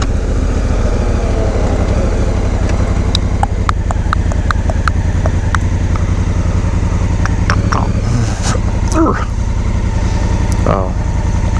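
A motorcycle runs steadily on the highway between Elko, Nevada and Salt Lake City, a loud, close, continuous engine drone with wind rush and a few brief clicks and knocks over it.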